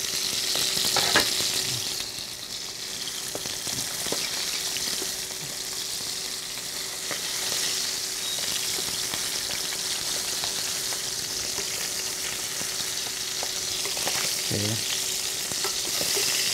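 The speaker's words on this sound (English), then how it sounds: "We're just browning the chicken right now." Chicken sizzles and crackles steadily while browning in a hot frying pan for coq au vin, close by and continuous. Occasional utensil clinks and scrapes break through the frying.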